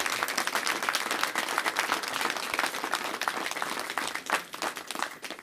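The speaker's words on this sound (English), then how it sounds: "Give yourselves a round of applause, because you did hard work on this." A crowd claps at an outdoor mayoral event celebrating an NYC Ferry service expansion. The applause is a fairly distant, fluttering wash of many hands, continuous throughout with small swells.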